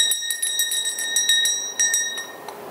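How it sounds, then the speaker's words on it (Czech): Hand-forged blacksmith bells made from seamless tube ring with bright sustained metallic tones, struck repeatedly in quick succession, close and clear with no voices. "Dneska bych se vám chtěl představit naše skvělé zvonečky."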